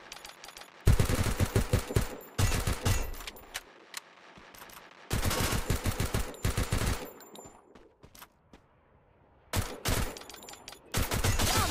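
Bursts of automatic gunfire in the mobile battle royale game Free Fire Max, loud rapid volleys separated by short silent gaps, with no talking over them.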